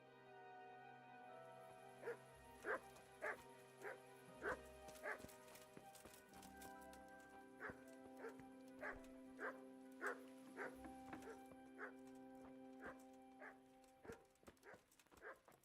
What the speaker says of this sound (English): Wow, that rapid barking was hilarious